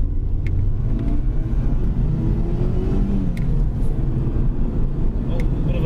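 A Mitsubishi Lancer engine runs with a misfire while driving, a loud, constant low rumble heard from inside the car.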